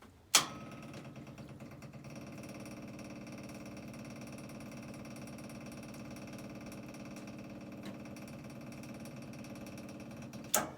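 A 2020 diesel engine cold-starts in snowy weather. It catches after a brief crank and settles into a steady, even idle with a sharp clunk at each end.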